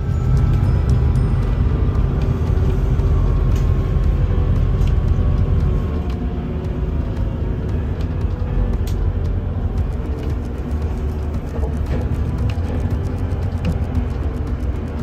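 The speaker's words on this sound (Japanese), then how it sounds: "空港隣のバスターミナルへ到着です" Inside the bus terminal beside Hong Kong airport, buses idle and pull through with a continuous low engine drone, faint clicks and rattles scattered over it, slightly quieter in the second half, no speech.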